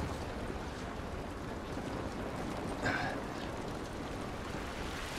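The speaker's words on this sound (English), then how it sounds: "This rain ain't gonna do us any good." Steady, soft rain hissing in The Last of Us Remastered video game, an even wash of noise with a brief brighter splash partway through, no voices.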